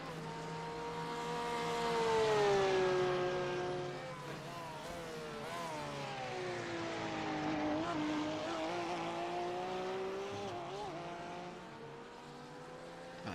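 A race car in iRacing at Sebring braking into a right-hand turn, engine note sweeping down through the gears with steady harmonic tones, moderately loud, then pitch rising again as it exits.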